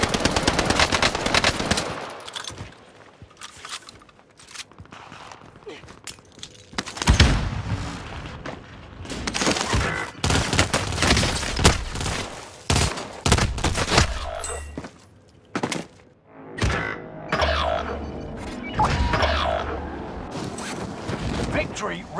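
Rapid bursts of video game machine-gun fire and gunshots crackle across the scene in dense volleys, broken by short pauses and a few deeper booms.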